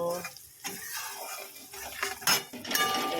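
A spoon scrapes and clinks against a pan while spice paste is stirred and fried for khichuri, with irregular metallic scrapes and rattles close by and a voice talking over them.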